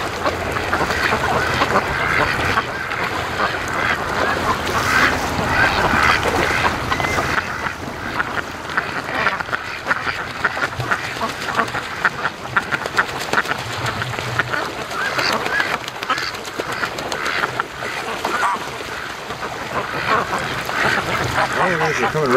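Free-range ducks on a lake call and quack in a continuous busy flock, close and steady, with honking tones mixed in and a person talking over them at times.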